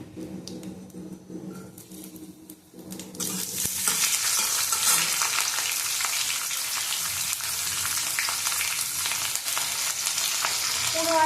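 Green chili and ginger hit a hot pan and set off a loud, steady sizzle that starts abruptly about three seconds in and then holds at an even level, following a quieter stretch of kitchen handling noise.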